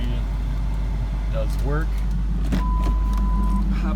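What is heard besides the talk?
power windows of a 2002 Ford Mustang GT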